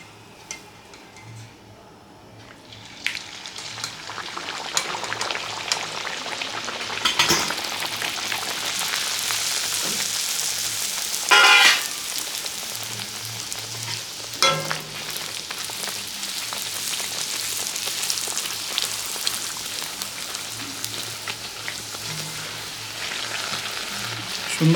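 Bhatura frying in hot oil, a steady bubbling sizzle that runs throughout, with occasional louder crackles and spatter bursts, close and fairly loud with no talk.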